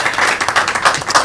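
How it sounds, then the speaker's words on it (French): A brief burst of audience clapping on a Congolese educational TV programme, dense and close, pulsing unevenly for just over a second. "on l'applaudit encore une fois très fort"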